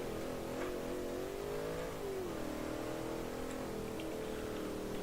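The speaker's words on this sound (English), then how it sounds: "At least we know it does good burnouts." A car in the game Automation does a burnout, its engine revving in a sustained, wavering whine that rises and dips while holding loud and steady throughout, with no voices.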